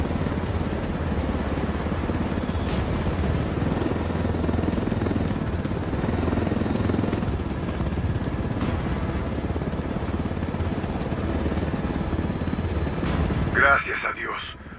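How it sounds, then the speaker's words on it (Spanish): A helicopter in the video game Ghost Recon Wildlands keeps up a loud, constant rotor-and-engine drone for nearly fifteen seconds, then ends in a brief burst and a sudden drop. "El helicóptero."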